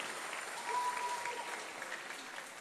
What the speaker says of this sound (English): Clap for Jesus, amen